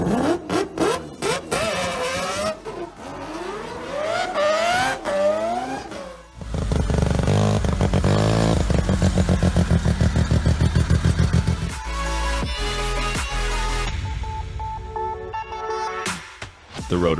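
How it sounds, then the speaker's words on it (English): A Mazda six-rotor rotary engine runs loud and close, revving up and down in rising and falling sweeps, then settling into a steady, rapid buzzing idle before a few final blips. "A6 rotor engine."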